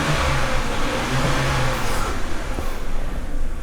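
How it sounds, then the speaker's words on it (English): A BMW car engine revs up briefly, its loud rising roar filling the clip before easing back as the idle settles. "I'll rev the car up a little bit"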